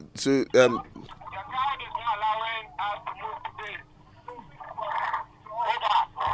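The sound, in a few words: police two-way radio transmission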